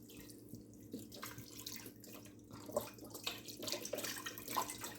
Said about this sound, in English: Now I'm going to go ahead and add some more beef broth.